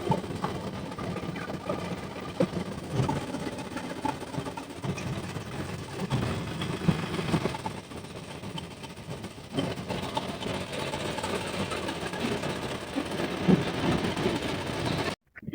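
Farm tractor driving out to the field, a steady rumbling engine with rattling and clattering throughout, loud and close with no talk.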